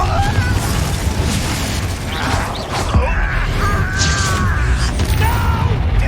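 An explosive Confringo spell goes off in a video game, a dull booming burst with creaking, mechanical effects over a dense, loud game soundscape, without clear talking.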